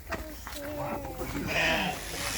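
A sheep bleats nearby while being held for shearing, amid background chatter and outdoor noise, with a wavering, nasal call rising toward the end.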